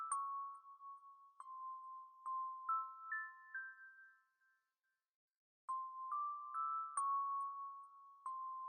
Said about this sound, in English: here's a synth bell from the native plug Citrus I used for this melody